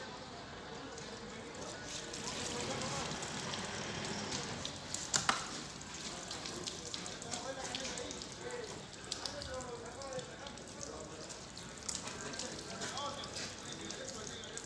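Water spraying steadily while washing a pickup truck outdoors, a continuous hissing rush with a few sharp splashes, with someone talking over it throughout.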